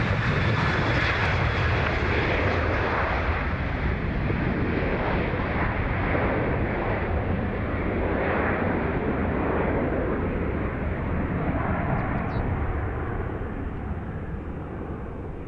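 Jet engines of an Antonov An-124 heavy-lift cargo aircraft at Dublin Airport, a loud, steady broadband roar that holds evenly and eases slightly toward the end, with no voices.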